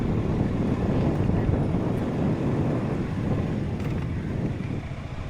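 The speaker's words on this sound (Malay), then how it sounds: "Nah, bunyi dia. Aduh. Ini ombak." Waves at a beach in Sekinchan, Malaysia, heard as a steady low rumble of surf mixed with wind buffeting the microphone, continuous and fairly loud with no voices.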